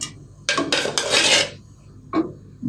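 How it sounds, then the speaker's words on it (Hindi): Spoonfuls of ghee going into a karahi on the stove for beef karahi, heard as a few loud metallic scrapes and clatters of a spoon against the pan in separate bursts, with no talking. "2, 3 चम्मच मैंने घी डाल दिया है।"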